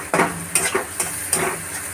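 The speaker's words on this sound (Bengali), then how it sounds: "ভালো করে নাড়াচাড়া করে নিচ্ছি।" Chili powder and cumin powder sizzle in hot oil in a pan while being stirred for dahi paneer, with a steady fry hiss broken by several scraping strokes of the spoon, close and fairly loud.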